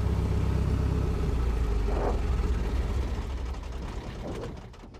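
A Pitts aerobatic biplane's engine shuts down, its loud low rumble holding steady and then fading away as it spins down to near quiet.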